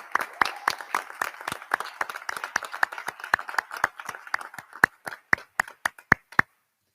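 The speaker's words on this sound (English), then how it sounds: "Could we have a round of applause for Michelle?" A small group at a college meeting applauding, claps dense at first and thinning out to scattered single claps before stopping.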